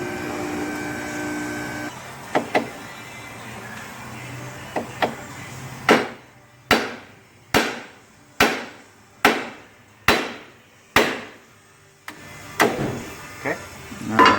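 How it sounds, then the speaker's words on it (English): Hammer impacts driving the inner tie rod out of its socket on a 2003 Dodge Grand Caravan: a few light taps, then a steady run of about eight sharp, loud metallic blows roughly a second apart, followed by some lighter knocks. "you have to get this guy out by impacting right here to pop it"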